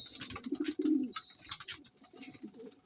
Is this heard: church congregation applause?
no